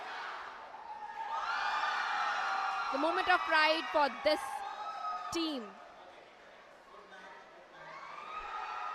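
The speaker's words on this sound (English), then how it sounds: "The students are so excited and they're cheering up louder and louder for their teams." Students cheer and shout for their teams at a national robotics competition, a sustained crowd roar with whoops and rising excitement, while a voice speaks over it.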